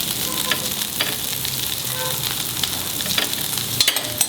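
Green chilies sizzle in hot oil with ginger, a steady, close crackling fry with a few sharper pops and stirring scrapes throughout.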